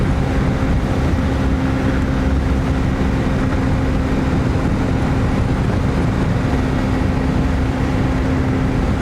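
A Honda CB125F motorcycle cruises at speed with the rider hunched over, giving a constant, loud drone of engine hum and rushing wind without a break.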